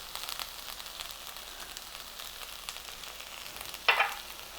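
Turkey berry and potato curry sizzles gently in a pan as it is stirred, soft steady frying with light scraping and a sharper clatter near the end.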